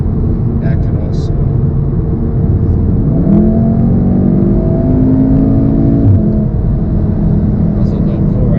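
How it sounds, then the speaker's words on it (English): Modified Subaru WRX with an aftermarket exhaust accelerating past, a rising engine pull that swells mid-clip over steady road rumble from inside another car. "That was a low pull right there. But yeah, that was a nice WRX."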